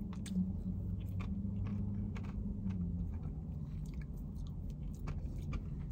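Crunchy topping from a grande Starbucks Chocolate Java Mint Frappuccino being chewed up close, a steady run of crisp crunches and mouth sounds over a low background rumble, with no talking.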